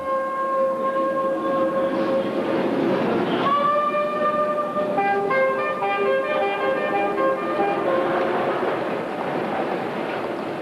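A Moscow metro train runs with a continuous rumbling roar, tonal whines rising and shifting as it moves, steady and loud throughout, at Novoslobodskaya station.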